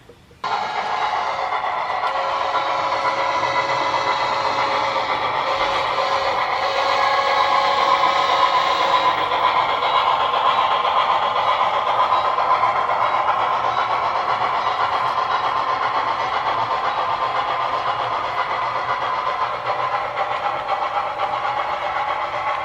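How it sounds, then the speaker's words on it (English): Excursion train roaring past a station platform, a sustained loud rumble with rhythmic clickety-clack of wheels on rail joints, steady and close throughout. "those on the platform can get a good look at the excursion train as it roars by"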